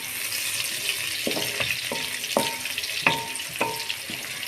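Chopped green onion dropped into a hot tadka for chana dal, a steady loud sizzle with a few sharp crackles and stirring taps in the pan.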